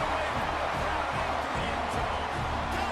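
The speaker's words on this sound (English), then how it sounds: "Crowd's going crazy." Stadium crowd roaring steadily after a touchdown in a college football video game, a dense continuous wash of cheering with no clear breaks.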